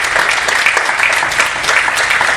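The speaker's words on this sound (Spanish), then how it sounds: "Dele duro el aplauso." Church congregation clapping hard in praise during a Spanish-language sermon, a continuous loud wash of applause at close range.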